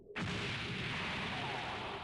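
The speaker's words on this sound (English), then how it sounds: "a new explosion made that impossible" An explosion sound effect in a Gundam battle bursts in abruptly after a short silence, a loud broad boom that stays sustained and rumbling to the end.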